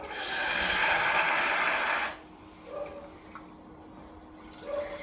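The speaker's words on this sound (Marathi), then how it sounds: "तांदळ डाळ आहे ती मी नळाच्या पाण्याने धुवून घेते" Rice and dal rinsed under a running kitchen tap, a loud steady rush of water for about two seconds that stops abruptly, followed by quiet with a few faint drips and small splashes.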